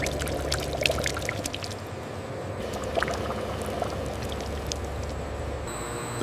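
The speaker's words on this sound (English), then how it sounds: "The freshly made banana puree flows steadily, collected for the next stage of bread production" Thick banana puree pours steadily from a large bread-factory machine, a continuous wet flowing rush over a constant mechanical hum, with no one talking.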